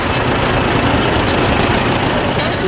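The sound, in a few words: antique tractor engine idling in a parade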